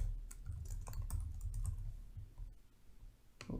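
Typing a title on a computer keyboard: quick, close clicks of keys in an uneven rapid burst, fairly quiet and steady, with a short pause near the end.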